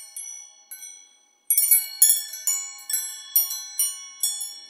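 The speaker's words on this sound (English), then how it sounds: "Called the Woodstock Cottage Decor Chime. It's a pretty simple chime. It has a pretty unusual sound." A Woodstock Cottage Decor wind chime rings alone, its bright metallic tones struck in a steady series of overlapping strikes that swell, decay and repeat, with a quiet pause before a fuller, louder run of chiming.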